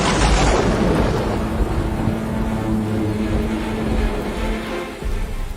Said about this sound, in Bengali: আকাশ ভেঙে বাজ পড়ল তার মাথায়।